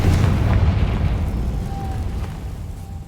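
A single heavy explosion from the Confringo spell in Hogwarts Legacy booms close and loud, then its rumbling tail slowly dies away.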